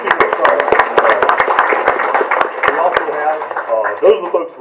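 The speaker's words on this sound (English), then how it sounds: "Can we give them a round of applause?" An audience at a federal lands field hearing claps for graduating certification students, scattered sharp claps running under continuous talking voices.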